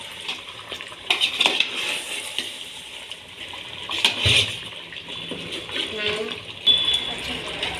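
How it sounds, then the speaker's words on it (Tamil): A spoon scrapes and clinks against a pan while chicken kuruma with green chillies is stirred, with sizzling underneath and intermittent metallic knocks; someone speaks at times. "இப்போ நல்லா கிளறி விடணும்"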